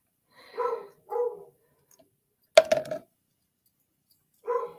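A pet dog named Bird barks indoors at close range, a few separate sharp barks spaced a second or more apart, with quiet gaps between them.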